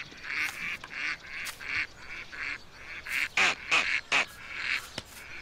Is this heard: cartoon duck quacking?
yes